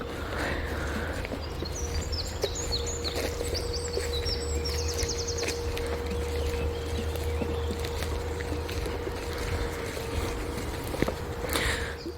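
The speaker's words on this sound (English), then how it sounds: "And the noises I can hear in the background, as well as the birds, remind me that this is an agricultural area." Birdsong in open French farmland near Gensac, Aquitaine, with thin chirps scattered over a steady low mechanical hum from distant farm machinery, the drone constant and far away throughout.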